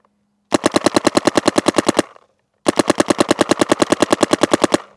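Two loud, rapid bursts of Planet Eclipse Etha 3 paintball marker fire, each a steady stream of sharp pops lasting about one and a half to two seconds, separated by a short pause.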